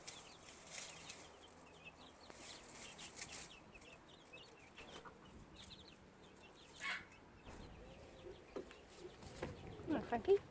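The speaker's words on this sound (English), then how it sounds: "Silkie chicks, the 3 little girls" Five-month-old Silkie hens in a garden cluck softly and chirp in short, scattered calls, close by, with people talking over them.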